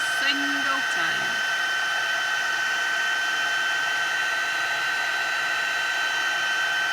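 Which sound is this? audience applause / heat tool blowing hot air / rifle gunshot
heat tool blowing hot air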